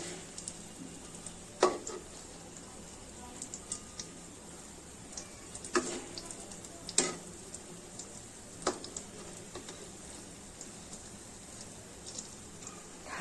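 Badali leaf kebabs fry gently in a pan over low heat, a soft continuous sizzle with scattered sharp pops and crackles.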